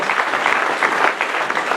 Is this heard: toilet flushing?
no